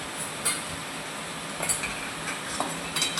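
Soaked sago stirred into a pan of sabudana khichdi, a spoon scraping and clinking against the pan in short bursts over a soft sizzle, close and fairly quiet.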